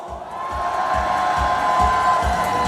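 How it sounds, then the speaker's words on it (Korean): Large crowd at a political rally in a public square, sustaining a steady roar of cheering and applause with low rhythmic thumps underneath, continuous and loud throughout. "동행신 여러분께서는 큰 함성과 박수로 이 결을 모아주시기 바랍니다."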